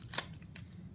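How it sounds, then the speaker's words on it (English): A brief riffle of tarot cards being shuffled, one quick crisp burst followed by a softer flick, close and quiet. "I need to shuffle this one more"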